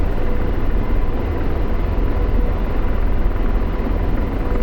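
Steady, loud AH-64 Apache helicopter rotor drone in the DCS flight simulator, flying low at about 127 knots, with a constant whooshing roar that holds without a break.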